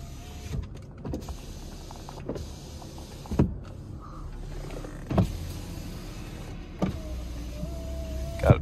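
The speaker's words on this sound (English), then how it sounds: "Got power windows, obviously." Power windows on a 2003 Mercedes E320 W210 wagon run up and down repeatedly, each steady motor whine ending in a firm thunk as the glass seats, heard inside the car with no voices.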